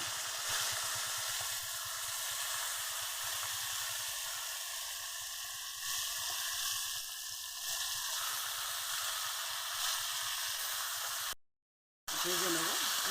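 Onion and green chilli fry in hot oil with bay leaves in a pan, giving a steady, close sizzling hiss that lasts throughout before a brief cut to silence.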